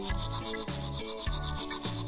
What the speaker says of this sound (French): Et je vais prendre une brosse spéciale. On doit frotter tout ça.